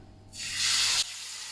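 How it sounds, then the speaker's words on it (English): Beef goes into smoking-hot olive oil in a pan and searing begins with a sharp burst of spitting hiss that swells for about half a second and then cuts to a quieter background, close and with no speech. "So now searing this beef, it took probably about a minute, this whole process."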